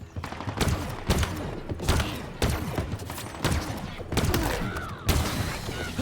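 Bursts of automatic gunfire in the shooter game Halo Infinite, loud and close, coming in rapid repeated volleys with short gaps, while a player talks over the shooting.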